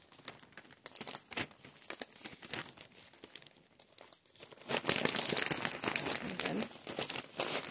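Adhesive strip peeled from a mailing package and the flap folded shut, heard as close, crinkly crumpling and tearing with short bursts at first, then denser continuous rustling toward the end.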